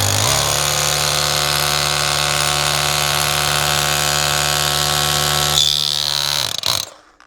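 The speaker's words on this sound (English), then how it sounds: "you can actually use your hammer drill. If you put it in chipping mode where it doesn't spin" A loud hammer drill in chipping mode, not spinning, drives a bolt, hammering and whining continuously for several seconds, its pitch steady, then cuts off abruptly and winds down.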